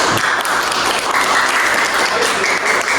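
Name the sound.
applause for a student group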